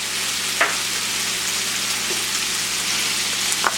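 Bacon, ham and onions fry in a pan for an omelet, a steady broad sizzle throughout with a couple of brief stirring clinks, close and fairly loud, no talking.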